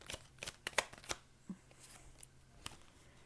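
Tarot cards are shuffled and drawn, with crisp snapping riffles and soft slides clustered early, then scattered flicks and a final card snap, close and fairly quiet.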